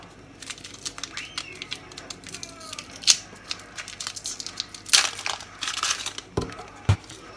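A chicken stock cube is crumbled and dropped into a pot of water with daikon radish and carrot for Thai chicken wonton soup, giving scattered, close crinkling and crushing crackles with a few sharper taps.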